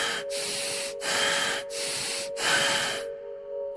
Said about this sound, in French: Deep and fast, rasping breath, deep and fast.